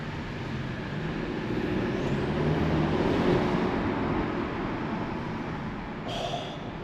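A 2022 Mercedes-Benz C300 on a night street drive, giving a steady, loud cabin rumble of engine and road noise with a faint thin whistle falling away early on, and no talking.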